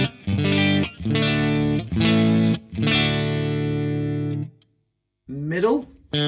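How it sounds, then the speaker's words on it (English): Distorted electric guitar chords from the neck pickup through an Apollo Approved Sawdust distortion pedal ring out in a few sustained strums, saturated and buzzing, followed by a brief silence and a bending lead phrase. "The neck pickup sounds like this."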